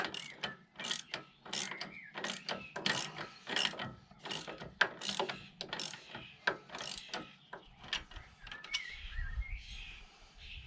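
Ratchet wrench tightening a Volvo top suspension mount, with a steady series of sharp clicking strokes in an irregular rhythm, close and fairly loud, with a few pauses between pulls.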